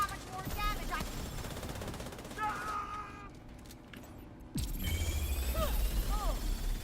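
Automatic gunfire at a shooting range in The Division video game, bursts of shots ringing out between quieter stretches with a heavier low rumble near the end.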